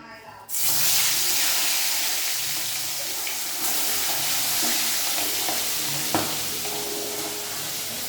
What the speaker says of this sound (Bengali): মাছগুলো এক এক করে ছেড়ে দিচ্ছি আমি